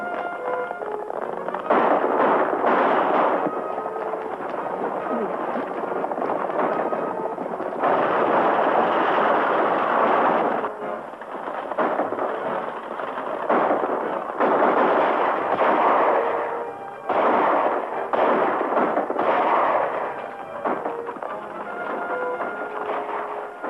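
Gunfire crackles in a western shootout, dense bursts of rapid shots rolling in waves with short lulls between, loud and sustained for the whole stretch with no talk over it.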